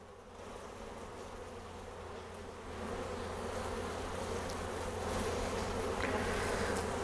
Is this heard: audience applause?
no